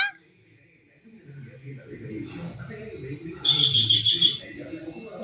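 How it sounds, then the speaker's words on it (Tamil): A parrot's shrill, piercing call rings out for about a second, rising above people talking nearby in a quiet outdoor setting. "கிளிதான் கத்திக்கிட்டே இருக்கேனப்பா"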